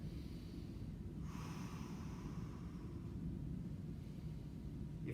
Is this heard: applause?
no